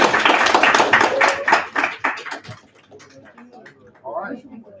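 Audience applause for candidates at a university student election, a burst of many hands clapping densely for about two and a half seconds, then thinning to scattered claps with a few voices murmuring.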